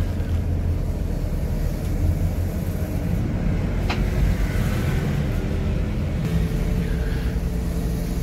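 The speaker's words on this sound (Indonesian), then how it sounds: "Masuk pelan-pelan. Bus 5 Adi Prima." Adi Prima Jetbus 5 bus rolls in slowly on Jalan Raya Wangun, a steady loud low engine rumble close by with no talk over it.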